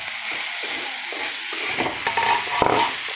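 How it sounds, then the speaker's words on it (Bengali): A vegetable fry is stirred in a pan after the lid comes off, soft scraping and shuffling over a steady low sizzle. "আমরা এখন ঢাকনাটা হটিয়ে একটু নাড়াচাড়া করে দিব।"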